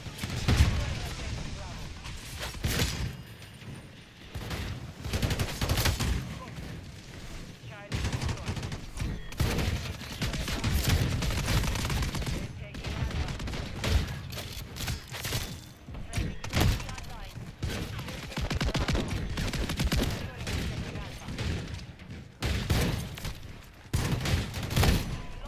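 Rapid, dense shotgun and weapon fire from a Call of Duty Modern Warfare III match, with constant bursts and thuds packed together across the whole stretch and a player talking over the action.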